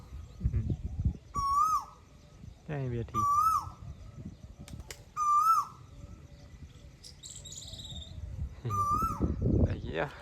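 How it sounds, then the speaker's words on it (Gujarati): A koel calls repeatedly from a village in Botad during rainy weather. About five clear, rising calls ring out at a moderate distance at even intervals, with soft voices and low outdoor noise between them. "મિત્રો કોયલા ટપકારા સાંભળો"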